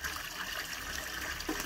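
Water trickles into a partly drained garden pond as it is refilled, a continuous close, gentle burble and splash holding steady throughout.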